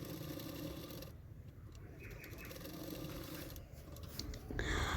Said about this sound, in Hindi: किनारे किनारे सिलाई करके जॉइन कर लेना है सिर्फ